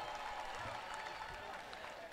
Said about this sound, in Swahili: Tupigie tena makofi ya kutosha.